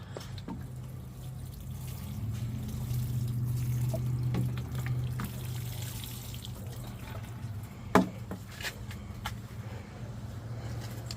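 Water runs steadily into a garden planter with a soft continuous trickle and low background hum, broken near the end by a single sharp knock and a few faint drips.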